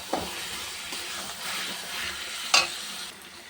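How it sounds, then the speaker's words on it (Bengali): Spice paste, potatoes and eggs sizzle and fry in a pan for an egg curry, with a soft continuous hiss and occasional scraping stirs, close and fairly quiet. "আলুটা ডিমটা দিয়ে দিলাম। এটা দিয়ে একটু কষাবো,"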